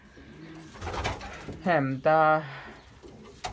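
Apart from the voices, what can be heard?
young pigeons cooing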